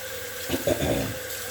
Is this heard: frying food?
no